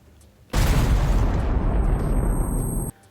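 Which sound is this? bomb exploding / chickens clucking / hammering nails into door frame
bomb exploding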